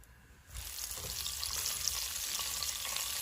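Mustard seeds, cumin and green chilies hitting hot oil in a pan with turmeric, a sudden burst of loud sizzling that settles into a dense, steady crackle with fine spattering pops.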